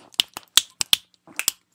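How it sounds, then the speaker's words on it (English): A run of sharp finger snaps, about seven crisp clicks in quick irregular succession, close and clear with nothing else behind them. "Instead of clapping, I snap."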